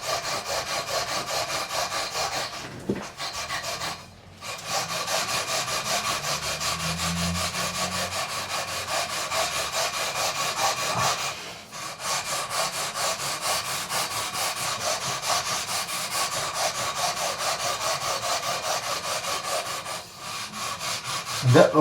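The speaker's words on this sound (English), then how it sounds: "we're going to hit it with the 400 grit, which is smoother" Rhythmic back-and-forth rasping of 400 grit sandpaper rubbed over the frets of a Harley Benton guitar during a fret dress, steady and close with a few brief pauses.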